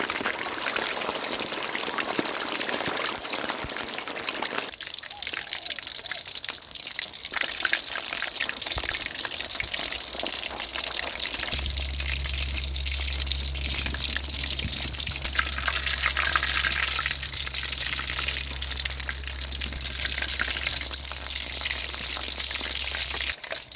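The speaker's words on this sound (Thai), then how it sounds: "ต่อไปเราก็มาทอดปลาทูเตรียมเอาไว้ก่อนครับ" Three large fresh mackerel fry in hot oil with a continuous bubbling crackle at moderate level, alongside a low steady hum from the stove or kitchen.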